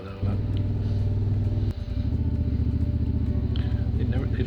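A motorbike engine drones steadily and close while riding along a road in Ukraine, a loud, even rumble with a brief dip partway through before the engine note resumes.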